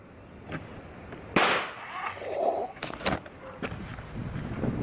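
A Hi-Point gun with solder lodged in its barrel fires one sharp, loud shot, followed by quieter shuffling and clattering sounds nearby.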